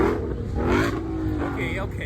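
A car engine revs at a rainy car meet where a Lamborghini SVJ and a Mustang are present, loud and close, rising and falling through the whole stretch under people talking nearby.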